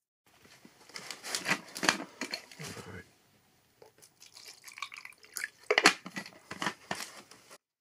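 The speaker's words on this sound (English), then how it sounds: "I'm going to fill it up with some salt water" Salt water is poured into small battery cups for a homemade voltaic battery, giving irregular splashing, trickling and dripping bursts with a short pause midway, close and moderately loud.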